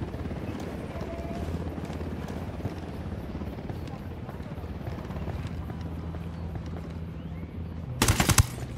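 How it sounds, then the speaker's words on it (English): Helicopter rotor drone and scattered gunfire from the video game Ghost Recon Wildlands, a steady low thrum under voices, with a loud burst of shots near the end. "Helicopter inbound."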